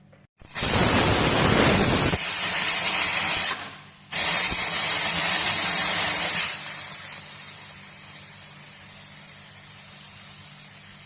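Pressure cooker on a gas stove cooking dal lets out loud, sustained steam hissing, cut off briefly and then resuming before tapering to a softer steady hiss; no voices.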